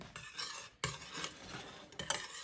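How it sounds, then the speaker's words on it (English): Whisking a lentil vegan loaf mixture in a bowl, a steady scraping, clinking rhythm of utensil against dish with two short pauses, close and moderately loud. "whisk that up. And let it come together."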